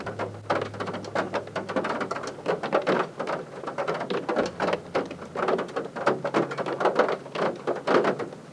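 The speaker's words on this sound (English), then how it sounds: "the rain's not gone off" Steady rain patters densely and close by on the ground and long grass at Loch Chon, Scotland, in bad weather, with no voices.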